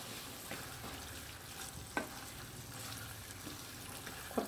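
Chilli chicken sauce being sautéed in a pan, a steady low sizzle with soft stirring scrapes and a couple of sharper utensil knocks, fairly quiet and close, no voices.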